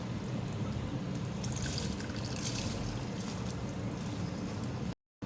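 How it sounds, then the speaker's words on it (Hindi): Soaked basmati rice pours into a pot for UP-style pulao, making a continuous soft, faint hiss and patter of grains that cuts off abruptly near the end. "अब इसमें राइस शामिल करूँगी।"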